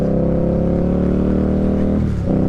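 Indian Scout Bobber motorcycle engine and loud exhaust roar steadily while riding in wet conditions, a dense close rumble with a short change in pitch near the end as the throttle shifts.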